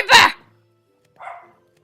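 A Minecraft dog barks twice in the game, first a loud, sharp bark and then a softer, shorter one about a second later, clear against silence.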